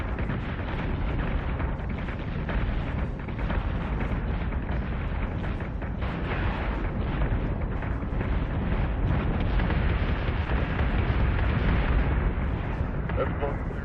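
Enemy gunfire and explosions pound a ship in the space combat game Battlestar Galactica Deadlock, a dense, continuous barrage of rumbling booms and crackling bursts that carries on without a break.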